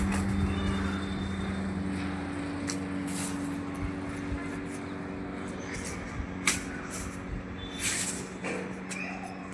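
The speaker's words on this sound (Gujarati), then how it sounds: "અહીંયા ઘડિયા ને ઘડિયા નીકળે છે વિમાન" An airplane passes close overhead near Bhavnagar airport, a steady broad engine roar that holds loud and even throughout, with a few faint clicks and knocks over it and no talking.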